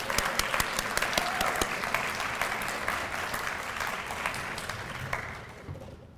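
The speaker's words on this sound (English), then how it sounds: "So a round of applause for Allison." An audience gives a round of applause at a Black Solidarity Day community event: a crisp burst of many hands clapping that gradually thins out and fades toward the end.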